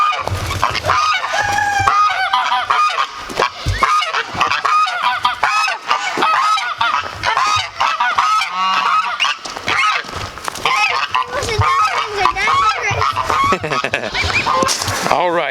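Domestic pet geese honk loudly and repeatedly outdoors, a dense run of nasal calls from several birds that continues throughout, with a few softer clucking sounds mixed in.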